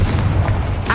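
A Confringo fire spell in Hogwarts Legacy on PS5 lands as a loud, low rumbling blast filling a brief moment, with a fresh crackling burst right at the end.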